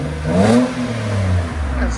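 A 2011 Nissan Altima SR with a 3.5-liter V6, high-flow cat and Borla S-Type exhaust gives a deep, steady engine drone with a mild rev swell, loud and close, running continuously throughout.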